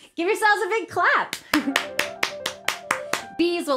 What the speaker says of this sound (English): Give yourselves a big clap.